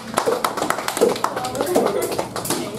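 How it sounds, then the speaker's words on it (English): Scattered clapping from a small group during a muffin-baking demonstration, a few distinct claps over a busy room with people talking. "round of applause"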